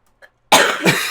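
After a moment of near silence, a loud, close harsh cough bursts out, quickly followed by a second rasping cough.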